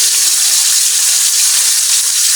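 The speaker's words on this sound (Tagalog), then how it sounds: "Yung tubig na sa thermos para mainit na agad." Hot water from a thermos poured into a cooking pot, a loud, continuous splashing gush heard up close without pause.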